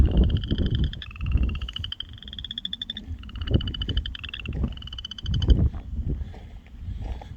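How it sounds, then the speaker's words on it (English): A chorus of frogs croaks continuously, with high trilling calls repeating in bursts over deeper, rumbling croaks, close and fairly loud. "You hear those frogs, you think they're big, but they're not."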